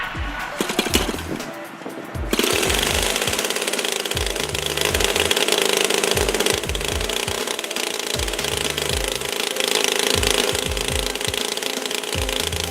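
A DLE gas engine on a model airplane is flipped by hand with a few pops, then catches and runs loudly, a harsh steady roar with rhythmic pulsing continuing to the end.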